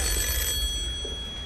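A telephone rings on a television game show set, a steady electronic bell tone sounding close and continuous over a low hum of studio background.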